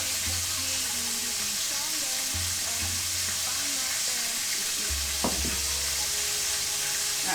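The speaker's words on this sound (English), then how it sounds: "Listen to that sizzle." Batter for crab croissants sizzles steadily in a pan on the stove, a constant bright frying hiss with occasional clicks of utensils and the low hum of a kitchen in the background.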